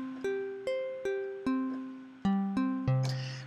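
A Logic Sculpture physical-modeling string on its default tutorial patch, with a short series of plucked, decaying string notes stepping between pitches, clear and up close.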